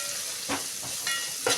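Bay leaves, spices and coriander frying in hot tempering oil for bagara rice: a soft, steady sizzle with a few brief louder crackling bursts, close and quiet, with no talking.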